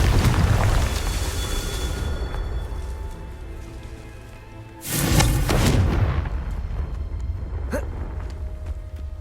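A Confringo fire spell in Hogwarts Legacy sets off a sharp, booming blast partway through, preceded and followed by a dense, rumbling crackle of ambient game noise, loud and close.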